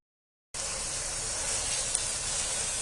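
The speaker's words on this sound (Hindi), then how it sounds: "आप इसको चम्मच चलाते रहें ताकि एक जैसा फ्राई हो" Chicken tikka pieces sizzle steadily in a pan, a loud continuous frying hiss that starts abruptly after a short silence and holds even to the end.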